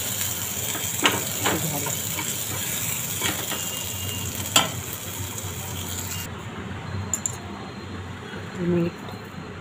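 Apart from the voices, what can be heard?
sautéing in a pan for Malvani aamboli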